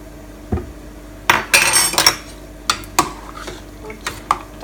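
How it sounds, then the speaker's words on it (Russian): Scattered clinks and scrapes of a utensil stirring pickled mushrooms in a metal pot, irregular and close, with a faint background hum. "Вот так немножко помешиваю, чтобы она так распределилась."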